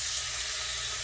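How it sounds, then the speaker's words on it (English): Beef sizzles in a hot pan while barbacoa for tacos is cooked, a steady, close, continuous hiss with no voices over it. "Oh, sizzle. Sizzle beef."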